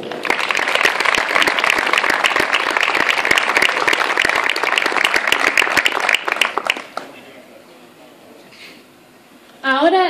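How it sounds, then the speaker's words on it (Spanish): Audience applause at a tribute ceremony honouring bar and tavern owners in Barrial de Gáldar, loud dense clapping for about seven seconds before fading to quiet, then a voice begins speaking at the end. "El aplauso."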